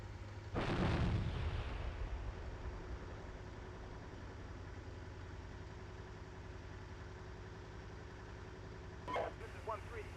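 A single deep, booming blast of artillery or heavy gunfire in a military video game, followed by a long, low, steady rumble like an idling engine, with a faint short sound near the end.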